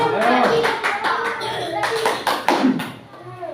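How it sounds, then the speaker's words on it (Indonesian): A classroom of children claps for a group, a short burst of hand taps layered under the teacher's voice and children's chatter. "Ya, tepuk tangan untuk kelompok 2."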